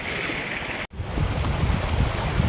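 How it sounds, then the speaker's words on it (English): Rain falls steadily during a mountain hike, a dense, even hiss that cuts out for a split second near the start and then returns slightly heavier, with no talking. "I was not expecting that rain to start."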